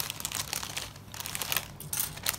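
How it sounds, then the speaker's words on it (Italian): Plastic bag crinkling and rustling up close as flat kit pieces for a Strandbeest model are pulled out, in soft irregular bursts of crackle with brief pauses. "tirarli fuori dal sacchetto."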